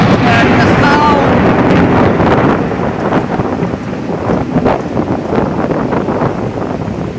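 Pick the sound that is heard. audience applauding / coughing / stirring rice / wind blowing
wind blowing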